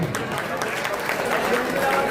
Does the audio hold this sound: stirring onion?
no